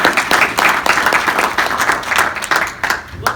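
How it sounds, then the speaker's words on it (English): A conference audience applauds the moderator of a cannabis-industry panel discussion, loud dense clapping filling the room for a few seconds without a break. "Let's give a round of applause for our friend."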